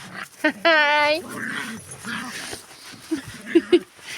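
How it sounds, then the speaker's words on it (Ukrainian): A dog yips, whines and gives short barks close by, interspersed with a person talking to it in a coaxing voice. "Гавкай, гавкай на мене."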